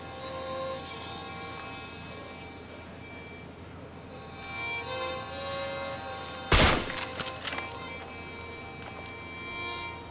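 A single burst of gunfire cracks out in State of Decay 2, a sharp loud blast followed by a few quick trailing shots over a steady hum of game ambience.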